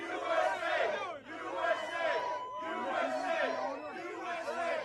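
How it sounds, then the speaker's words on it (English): A crowd cheers for Trump in Philadelphia, chanting loud rhythmic repeated bursts with brief gaps between them, close and energetic. "They're clearly cheering him"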